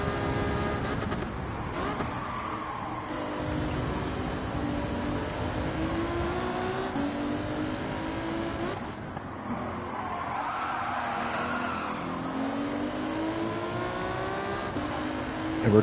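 A race car engine in Gran Turismo 7 drones steadily under light throttle through a curve, its pitch rising and falling continuously with faint tyre scrub, loud and unbroken with no talking.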